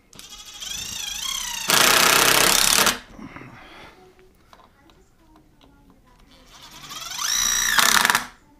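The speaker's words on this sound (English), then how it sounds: "This Bosch drill is awesome." Bosch 12-volt cordless drill driving square-head three-inch deck screws into a bed frame: two loud bursts of whining, rising motor noise about a second long each, separated by a quieter pause.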